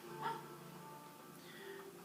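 A dog barks somewhere in the background, a short yappy burst near the start followed by fainter yips, low and distant under a steady room murmur.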